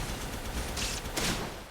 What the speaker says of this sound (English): that little like electric explosion that happened, that's our Arc Charger working in the background